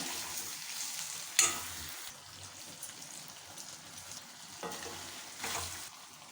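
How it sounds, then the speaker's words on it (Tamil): Brinjal chicken masala stirred in a pan: soft continuous sizzling with scraping stir strokes and one sharp clatter early on, heard close and fairly quiet, with no talking. "இப்போ கலந்து கொடுத்து கருவேப்பிலை போட்டு கொத்தமல்லி போட்டு இறக்கிடலாங்க."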